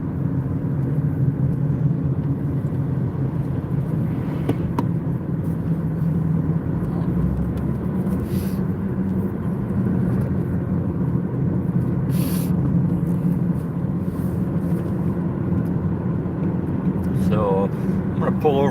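Garbage truck on the road, a steady low engine rumble and road noise running continuously and fairly loud, with a brief higher squeal or hiss near the middle and end; no one talks over it.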